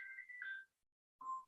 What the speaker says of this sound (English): Sorry, that's my phone ringing.